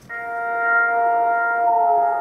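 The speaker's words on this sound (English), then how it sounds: "It's this weird little wind harp thing." A steady, eerie drone of layered sustained tones from a wind harp hums evenly, swelling slightly as wind passes over its strings, with no voices.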